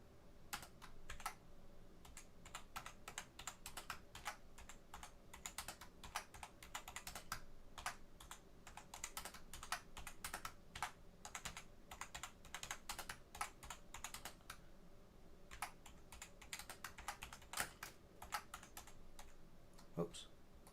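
Rapid, steady clicking of computer keys being typed on a keyboard during a live stock market trading stream, close and fairly quiet, continuing for the whole stretch with occasional pauses.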